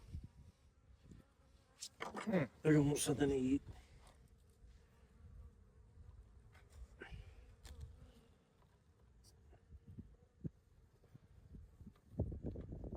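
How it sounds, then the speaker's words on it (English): Bees buzz softly around a full hive box, with a person speaking briefly early on and occasional handling knocks. "So we have a full box of bees right here."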